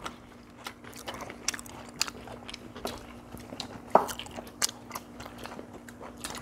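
Close, wet chewing and crunching of a Korean spicy pork stir fry wrapped in lettuce, with irregular bites and crisp crackles repeating steadily and nothing else heard.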